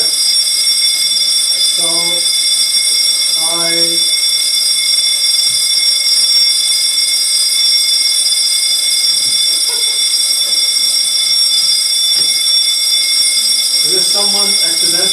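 A fire alarm rings loudly and continuously throughout a false alarm, its steady high electronic tones dominating, with people talking briefly beneath it.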